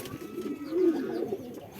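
Wild jalali pigeons in a loft give a soft, low, rolling coo that swells midway and tapers off, close and fairly quiet over faint background noise.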